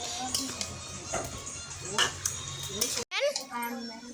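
Pots and metal utensils clink and scrape while meat cooks in a home kitchen, with intermittent taps and stirring under frequent nearby talk.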